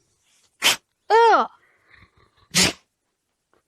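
A puppy sneezes twice, short sharp bursts close by with a few seconds between them, and a person's brief exclamation sounds in between.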